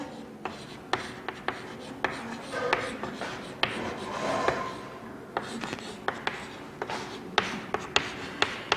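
Marker or chalk writing code on a board in a Visual Basic programming lesson, a steady run of short scratchy strokes and taps across the clip, with no talking.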